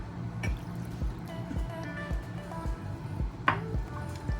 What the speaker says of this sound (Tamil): நான் 1 கப்பு வச்சுருக்கேன், நான் அதை ஊற்றுறேன்.